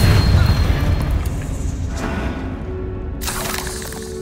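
A Confringo blasting spell explodes in the video game Hogwarts Legacy with a loud, deep boom that rumbles and fades over a couple of seconds, followed by a sharper crackling burst.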